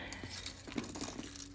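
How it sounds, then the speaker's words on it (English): Car keys jangle quietly near at hand, a few clustered metallic clinks and rattles shaking out in short bursts as they are handled, with no speech. "my car keys."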